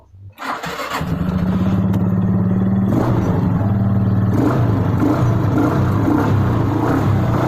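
A Suzuki Skydrive scooter engine cranks with the starter and catches, then settles into a steady, close idle with a slight uneven rhythm that continues to the end; the scooter has a double-starter fault.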